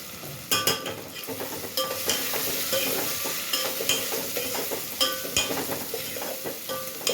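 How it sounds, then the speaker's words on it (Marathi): Freshly ground spice paste with roasted coriander is stirred and fried in a hot pan for a traditional Bhogi vegetable dish: a steady close sizzle broken by repeated scraping stirs of the spoon against the pan. "हे आपण बनवलेला मसाला आपण असे जे गरम करून जे वाटण केले ते आपण पूर्ण ह्याच्यामध्ये टाकणार आहोत"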